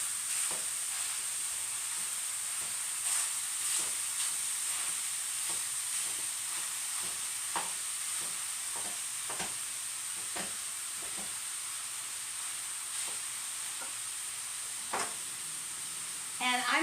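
Ground meat sizzles steadily in a hot pan for a meal-prep cottage pie while a utensil scrapes and breaks it into crumbly bits, the repeated clacking strokes over a constant high frying hiss.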